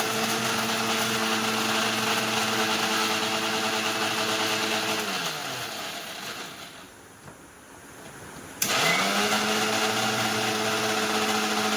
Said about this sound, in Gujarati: પાવને આ રીતે મિક્સરમાં ભૂકો કરવાનો હોય છે.